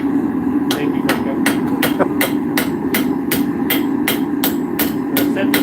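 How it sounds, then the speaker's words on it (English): Steady, evenly spaced hammer blows setting a rivet on a mulling iron, about a dozen sharp metallic strikes at a brisk rhythm, close and loud over a constant background hum. "We're going to set this rivet."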